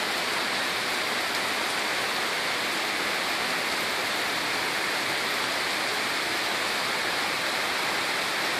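Heavy rain pours down in Kitchener, flooding the street like a river. A dense, steady, loud rush of water and rainfall continues unbroken throughout, with no voices.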